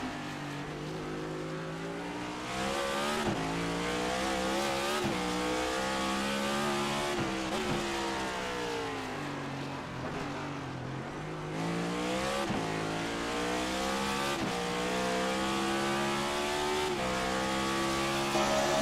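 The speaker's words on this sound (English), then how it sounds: "so you can really hear the roar of these cars" Race cars roar through city streets during Grant Park 220 qualifying, a loud continuous engine drone with rising and falling pitch as they accelerate and shift, sustained throughout with no talking.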